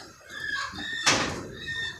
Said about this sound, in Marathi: सगळ्या कोंबड्या इकडं मध्ये गेल्यात